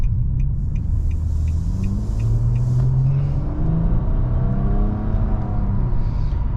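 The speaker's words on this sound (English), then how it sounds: "definitely this CVT helps the car accelerate smoother" A 2022 Nissan Maxima with a CVT transmission accelerates, its engine giving a loud, steady rumbling drone from inside the cabin, with smooth rising tones and no talking.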